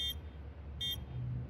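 In a competitive tactical shooter match, a planted bomb gives two sharp, high electronic beeps about 0.7 seconds apart over a low background hum.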